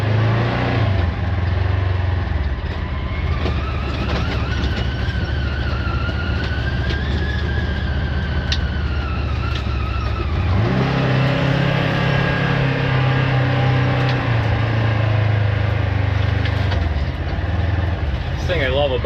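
A 2024-2025 Polaris RZR off-road vehicle drives with a steady low engine drone and changing revs, close and continuous, with a person talking over it.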